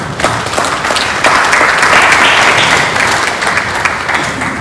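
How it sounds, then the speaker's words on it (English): An audience at a business summit for small enterprises and start-ups claps steadily, with dense, loud applause that swells briefly in the middle and holds for the whole stretch. "Please, a round of applause for SMEDA."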